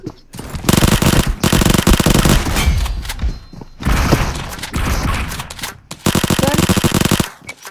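Rapid automatic gunfire in a 3v3 online shooter match comes in long, loud bursts separated by short gaps, close and dominant throughout.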